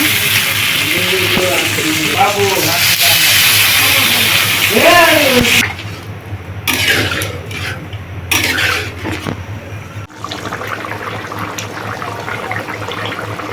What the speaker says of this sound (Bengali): মাংস কষানো হয়ে গেছে জল দিয়ে দিল